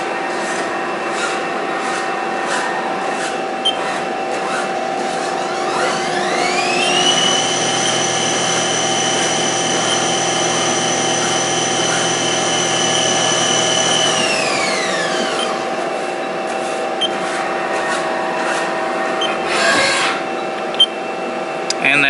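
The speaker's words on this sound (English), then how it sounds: "the final operation is with our cutoff tool" Lathe cutoff tool parting off a machined part, a steady rasping cut with a rising then falling whine mid-run, close and continuous over machine hum, ending with a brief knock.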